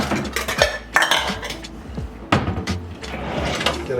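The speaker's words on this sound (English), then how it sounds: "we're gonna get a couple bowls." Bowls and metal tongs are pulled out and set down in a home kitchen while making bucatini all'Amatriciana, a run of close, sharp clinks and clatters of dishes and utensils with brief pauses between them.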